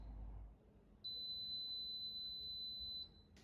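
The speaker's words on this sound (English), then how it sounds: "once it's done, it will have a long beep and it's indicate it's done" Dr. Brown's bottle warmer gives one long, steady high-pitched beep lasting about two seconds to signal it has finished, clear above a faint room background.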